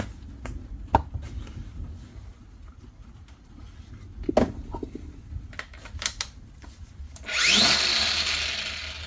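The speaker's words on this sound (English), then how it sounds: "So, only one thing for it. Grinder." A grinder works on a Honda lawn mower blade, starting up near the end as a loud, rising whine with a harsh, bright edge after a stretch of quiet clicks and handling knocks.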